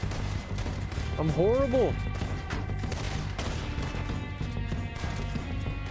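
Gunfire in the open-world western game Red Dead Redemption 2 crackles as a distant, repeated volley under steady ambient game noise, with a person briefly talking over it.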